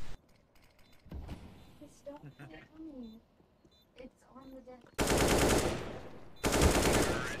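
AK rifle gunfire in a tactical shooter video game rips out in two loud sustained bursts after a stretch of talking, the second burst following closely on the first.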